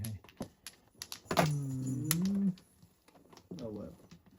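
A bird gives a single drawn-out coo, then a shorter second coo, fairly close and clear over scattered knocks and clatter in the background, with no talking over it.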